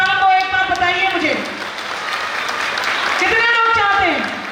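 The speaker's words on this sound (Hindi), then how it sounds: "ये तालियां कमजोर है" An audience at a poetry gathering during an annual fair festival applauds in a steady, loud wash of clapping, while an amplified voice rises over the clapping at the start and again near the end.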